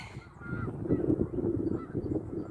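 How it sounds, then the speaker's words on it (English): Aquatic birds, likely geese, honk by a lake, their calls brief and partly buried in steady low rumbling outdoor noise, with no talking. "There's so many aquatic birds here, it's not even funny."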